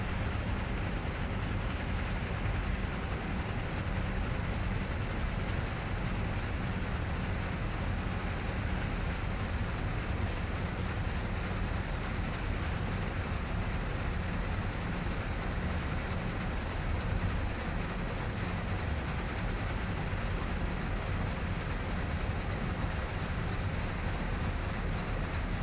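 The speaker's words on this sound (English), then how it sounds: "Braking. Come on, train." A heavy freight train in Train Sim World 2 on the Horseshoe Curve rumbles along while braking, a continuous dense grinding roar with faint periodic clicks and no voices.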